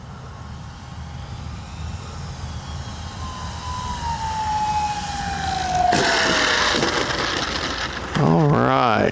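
An X-Fly Twin Otter 1800mm RC plane flies overhead, its whining, jet-like motor tone sweeping steadily downward as it passes, then growing louder and closer near the end.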